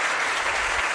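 A brief, steady burst of audience applause, dense and close, filling the moment without any talk over it.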